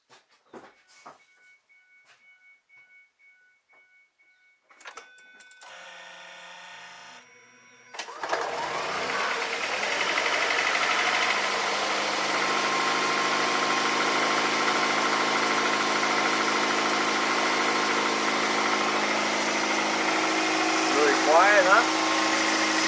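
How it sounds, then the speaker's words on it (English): A 2006 Ford Escape Hybrid's engine starts up with a sudden rise in noise partway through and then settles into a steady, fairly quiet idle close by, with a brief rustle near the end and no talking over it. "go ahead and start her up"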